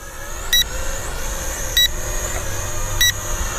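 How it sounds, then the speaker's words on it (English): A LeaDeals 809S 4K drone in headless mode gives three short, evenly spaced high beeps over a steady motor whir, nearby and distinct. "I don't know why it does that beep thing just because we're in headless mode"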